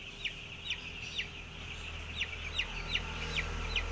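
A chorus of five-day-old broiler chicks peeps in a brooding house, with about ten brief high cheeps scattered at an uneven rhythm over a low, constant ventilation-like hum.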